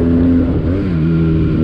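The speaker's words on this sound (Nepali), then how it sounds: "बाइकको साउन्डहरू पनि केही हालेको होइन नि त, अर्जिनली हो नि त यसको" A motorcycle engine with its original stock exhaust runs steadily, a loud continuous low rumble with a slight dip in pitch partway through, close by and with no talk over it.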